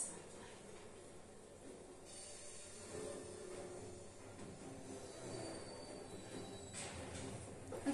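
A hijacked train rolls along in the Call of Duty Vanguard campaign, a steady rumble of wheels and carriages with hissing and faint metallic squeal running through all eight seconds, loud and continuous with no talking.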